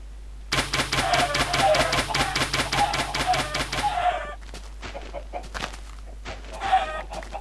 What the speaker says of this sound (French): je dois aussi tuer toutes les poules qui arrivent à sortir